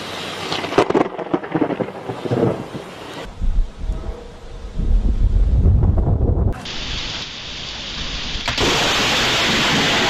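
A thunderstorm with loud, rolling thunder and rain, the low rumble building and swelling mid-clip over wind buffeting the microphone, then settling into a steady, close hiss of rain.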